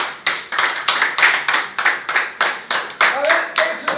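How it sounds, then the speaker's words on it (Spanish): Congregation clapping in unison in a Spanish-language church service, a steady series of sharp, loud claps in regular rhythm with faint voices underneath. "Palmas para el Señor."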